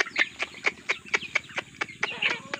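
Rhode Island Red and Darag chickens in an outdoor chicken range cluck in a quick run of sharp, evenly spaced calls, loud and close, with no talk over them.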